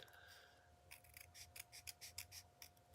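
Scissors snip through card paper while trimming a handmade greeting card, a quick series of crisp close cuts in an irregular rhythm with a faint background hum.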